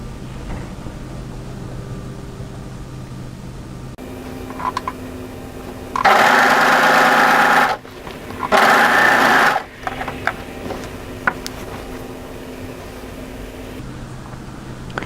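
An overlocker stitches a seam on a casual knit tee dress in two loud, steady runs of a few seconds each, separated by a brief pause, with quieter handling before and after.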